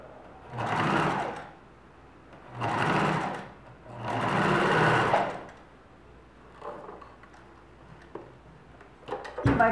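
A sewing machine stitches a seam with bias binding in three bursts of rapid whirring, each about a second and a half long, separated by pauses with light handling clicks.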